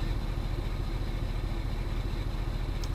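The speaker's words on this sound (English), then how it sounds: "Start the engine." A truck engine in Euro Truck Simulator 2 with a Mercedes sound pack mod runs at a steady low rumble and hum, constant and unbroken for the whole stretch with no voices.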